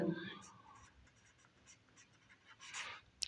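Chalk or marker scratching on a board during a math lesson on the Taylor series method, soft intermittent strokes under a teacher's quiet speech.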